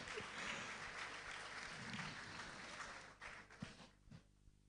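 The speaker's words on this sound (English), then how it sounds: "Can we please give the committee another round of applause?" An audience claps for a committee at a formal report presentation, a dense steady round of applause that thins into a few scattered claps before fading out.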